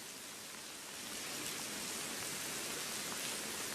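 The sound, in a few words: heavy rain falling by a riverbank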